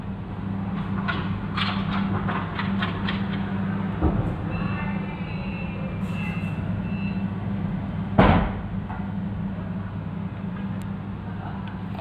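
An old Mitsubishi Canter truck drives along, its engine a loud steady drone with rattling and two sharp knocks from the body, with no talk over it.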